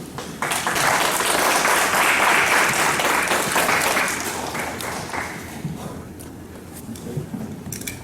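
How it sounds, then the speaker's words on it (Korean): An audience at an SM6 car product presentation applauds the incoming development executive, with strong, dense clapping for about four seconds that then thins and tapers into scattered claps. "박수로 부탁드립니다"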